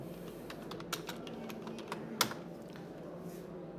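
A few scattered, soft keystrokes tap on a computer keyboard while a logo search term is typed, spaced irregularly, with one louder, sharper key press standing out and no speech.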